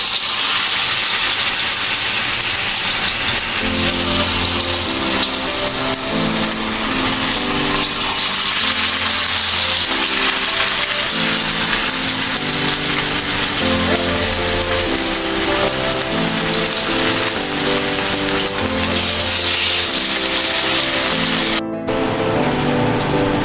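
Marinated chicken 65 deep-fries in hot oil, making a loud, continuous close bubbling sizzle and crackle that holds steady with no voices, cut briefly near the end.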